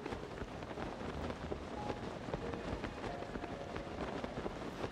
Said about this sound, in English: The snow seems to be turning a bit to rain